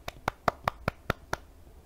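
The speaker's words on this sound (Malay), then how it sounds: "tepuk tangan untuk diri sendiri" Seven crisp claps spaced evenly in a quick run, close and fairly faint, as young children in a class clap for themselves.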